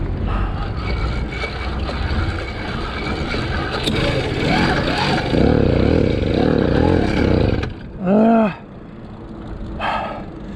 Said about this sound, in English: That time I opened the throttle and kept pedaling, and it almost took off.